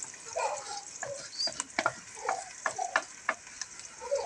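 Onions frying in a pan with ginger garlic paste, a soft close sizzle broken by frequent crackles and pops, fairly quiet and without speech.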